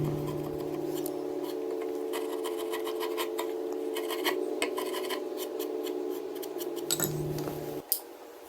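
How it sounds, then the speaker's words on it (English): A sharp, rusty old chisel paring and scraping at dadoed joints on a wooden workbench, giving continuous close rasping and rubbing strokes, steady for several seconds, then a brief pause and a final sharp tap. "nothing a nice, sharp, rusty old chisel can't fix"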